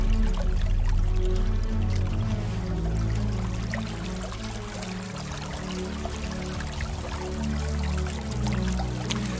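Water flowing steadily through an irrigation channel on La Palma in the Canary Islands, a continuous close gurgling pour and trickle, with no voices.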